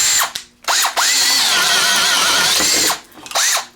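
A Teccpo 12-inch cordless drill with a 4-pole brushed motor bores into wood, whining loudly in several bursts: a short spin, then a long sustained run, then another brief burst, with no talk.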